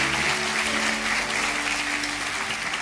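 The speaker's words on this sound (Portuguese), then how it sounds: "Uma salva de palmas para os visitantes de agora." A congregation at a church gathering claps for visiting guests, a continuous, even patter of applause filling the room, with a faint sustained tonal hum underneath throughout.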